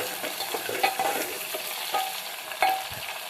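Shallots and green chillies frying in a pan for a green field bean curry, a steady soft sizzle with a few sharper scrapes of stirring, no talk.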